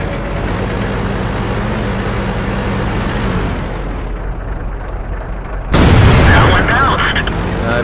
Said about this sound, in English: now I'm being hit by artillery.